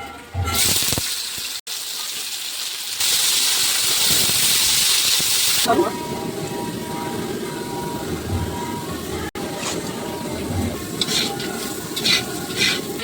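Banana stem rubbed with salt frying in hot oil in a wok during festive vegetarian cooking at a household event: a loud, steady hiss surges through the middle, with voices and singing in the background.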